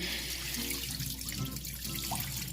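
Rinse water from washed beans sloshes and trickles out of a pot into a sink, a steady near pouring and splashing with small drips, no voices.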